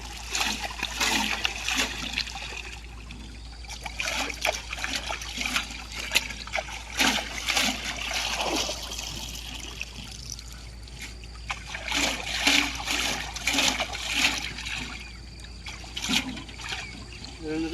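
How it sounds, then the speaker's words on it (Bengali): Pipes being washed in canal water: steady trickling, dribbling and splashing with irregular bursts of louder splatter, fairly close and moderately quiet over a low background hum. "আজকের দিনের মধ্যে কাজ শেষ তাই পাইপ তলা সব ধোয়া হচ্ছে"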